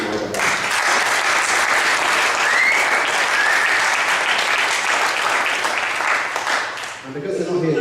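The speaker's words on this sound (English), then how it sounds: "would you give them a round of applause for my behalf?" A conference audience applauding, loud, sustained clapping that fills the room for several seconds before tapering off, with a voice coming in at the end.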